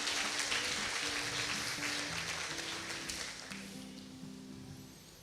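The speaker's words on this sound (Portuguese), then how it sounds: "Você pode dar um aplauso ao Senhor?" Church congregation at a Sunday service applauding, dense clapping that starts strong and gradually tapers off, with a faint sustained musical tone underneath.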